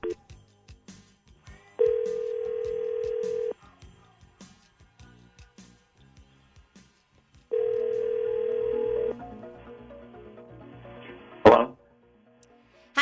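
A telephone line while a call is being placed gives two long, steady tones of a couple of seconds each, separated by quiet with scattered small clicks, followed by a brief sharp burst of noise near the end.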